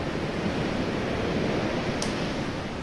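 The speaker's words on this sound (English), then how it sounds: "You'll notice here with the front waves and now with the back waves" Ocean waves wash in a continuous, even hiss of surf, with no voices and no distinct breaks.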